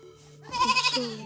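A single goat lets out a short, wavering bleat, close and fairly loud, rising out of near silence and lasting under a second.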